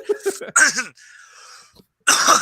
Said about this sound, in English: Normally I mute myself when I cough.